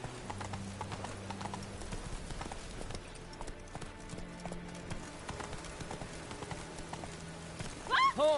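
Hooves of the horse Roach clip-clop steadily in The Witcher 3 video game, a regular walking rhythm under in-game music, with a brief louder burst near the end.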